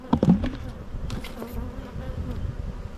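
Honey bees buzzing from a freshly opened backyard hive in Australia, a dense steady hum with a few louder close wingbeats early on and no talking.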